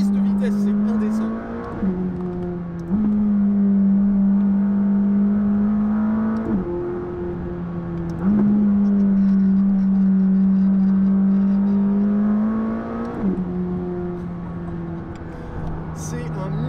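A McLaren 600LT sports car accelerating hard from inside the cabin, the engine droning and climbing through repeated gear changes with short dips between rising pulls, while someone talks over it.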